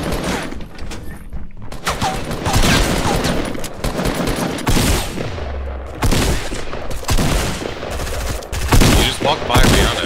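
Gunfire in the Fortnite video game, rapid bursts of automatic fire and single shots coming in clusters, loud and close, with brief quieter gaps between volleys.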